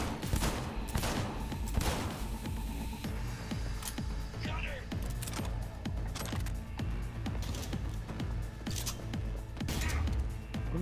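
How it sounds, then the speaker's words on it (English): Rapid gunfire in Cyberpunk 2077 combat crackles in repeated sharp bursts over a dense game soundscape, mid-distance and fairly quiet, with other impacts and clatter mixed in. "Shooting, dude"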